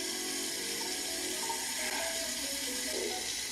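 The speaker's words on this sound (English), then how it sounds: "Maybe I need a splash of water on my face." A bathroom tap runs water in a steady, soft, continuous hiss, fairly faint and unbroken, with no distinct splashes standing out.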